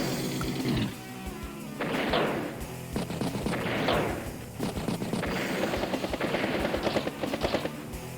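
A battlecopter strike in the Advance Wars by Web strategy game, with several rhythmic bursts of rattling gunfire and crashing impacts, each burst a second or so long, repeating over a steady background.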